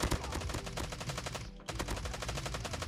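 An LMG machine gun in the Call of Duty Mobile video game fires loud, rapid continuous bursts with a very brief break in the middle, close and dominant.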